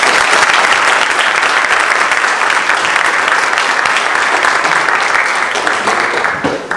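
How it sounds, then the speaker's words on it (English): Loud, sustained audience applause at a talk, a thick continuous roar of many hands clapping at full strength before dipping slightly at the very end. "Can we have a round of applause?"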